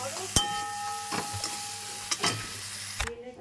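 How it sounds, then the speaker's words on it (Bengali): Pre-fried potatoes are stirred into a pan of frying spice masala for a Bengali rohu fish curry, a few sharp utensil scrapes and knocks over a soft sizzle, heard close, with a steady hum in the background. "আগে থেকে ভেজে রাখা আলুটা আমি দিয়ে দিলাম আলুগুলো এবারে নাড়াবো"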